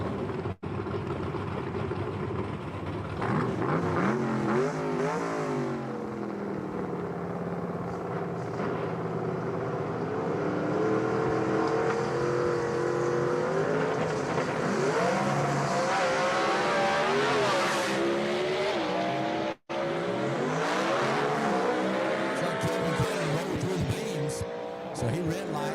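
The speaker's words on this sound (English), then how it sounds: "A couple of beautiful red cars find themselves sitting on the line for you right now." Red gasser drag cars at a Southeast Gassers Association event roar with steady, loud engine noise and shifting revs, under a commentator's ongoing talk.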